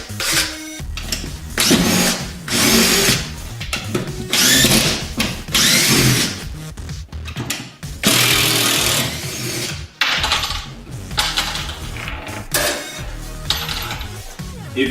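Power drill running in repeated loud whirring bursts, removing screws from a ceiling fixture mounted in drywall, with brief pauses and clicks between runs.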